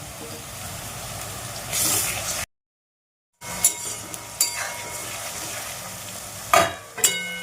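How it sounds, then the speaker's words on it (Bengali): Onion, ginger and garlic fry in a pan with a soft sizzle while a spoon stirs and scrapes, giving several sharp clinks against the metal; a brief silent gap interrupts the close, moderately loud cooking. "এটা একটু নাড়াচাড়া করে ভাজা ভাজা করে নেব"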